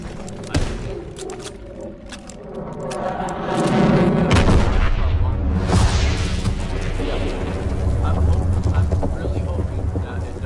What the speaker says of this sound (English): Launching Captain V2 rocket!